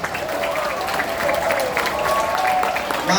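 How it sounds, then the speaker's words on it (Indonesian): An assembly at a school scout ceremony claps together in a moderate, steady burst, while a voice talks over the applause. "Beri tepuk tangan juga"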